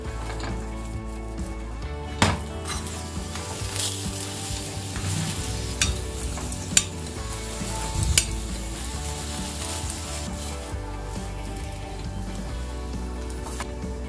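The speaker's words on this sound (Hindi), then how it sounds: "इस पराठे को हमको धीमी आंच में ही सेकना है, क्योंकि इसको काफी मोटा बनाया है।" A thick stuffed green pea paratha fries with a little ghee on a pan over low heat, giving a soft steady sizzle with occasional utensil clinks and scrapes and no talking.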